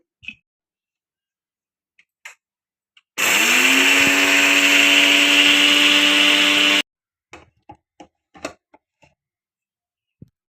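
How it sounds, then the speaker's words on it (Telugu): A kitchen mixer grinder grinds finger millet (ragi) into flour in one loud, steady whirring burst of about four seconds, with a few light clicks and taps before and after. "రాగులు తీసుకొని మిక్సీలో వేసుకొని పట్టుకోవాలి"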